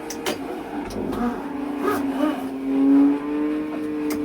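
A racing video game car drifts under a Thrustmaster T500RS wheel, its engine tone holding and shifting pitch with tire squeal, fairly close and moderate in level.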